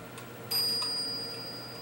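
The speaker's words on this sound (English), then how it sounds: "it's giving us the half-hour cup bell" A Gilbert clock's cup bell strikes once for the half-hour, a single clear, close metallic ding that rings on and slowly fades, with no talking.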